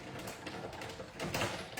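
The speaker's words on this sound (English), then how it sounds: "So I'm putting it through the Big Shot or the Stampin' Emboss." Big Shot die-cutting and embossing machine being cranked, giving a short run of soft mechanical clicking and grinding, fairly quiet and steady with a slight swell near the end.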